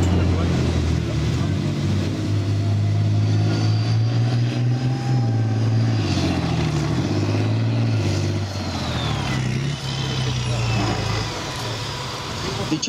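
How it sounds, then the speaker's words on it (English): A Challenger armoured repair and recovery vehicle on the move, its heavy engine giving a loud, steady low drone throughout with faint whining overtones, easing slightly toward the end. "The Challenger armoured repair and recovery vehicle that you see today may well have gone out on the route patrol with the leading elements"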